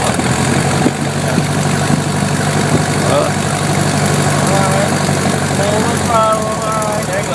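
A 1967 Cessna 150 light aircraft engine runs steadily at a low idle while taxiing, a loud continuous drone close by, with brief whistling tones near the end.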